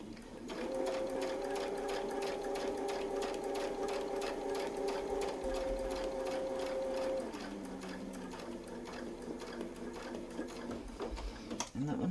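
Sewing machine stitching a Westalee Mini SFX quilting design: a steady, fast rhythmic whirr of needle strokes with a motor hum that drops in pitch near the end, quiet and continuous, with no talk.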